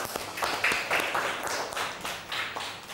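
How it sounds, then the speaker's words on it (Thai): Children clap together after hearing the Thai folk tale Phikun Thong. The clapping is soft, quick and somewhat uneven, and continues without talk for a few seconds. "ปรบมือให้พิกุลทองหน่อย"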